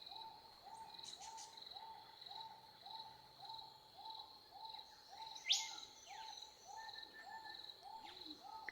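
Outdoor night ambience with an owl hooting in a steady repeating rhythm against a constant chirp of insects, with a sharp bird call breaking in midway, all faint and distant.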